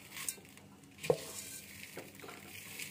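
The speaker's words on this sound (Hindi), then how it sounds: "दाल को जो है मैंने अच्छी तरह से वॉश कर लिया" Mixed mung and masoor lentils are rinsed in water in a pot, heard as faint swishing and stirring with one sharp clink partway through.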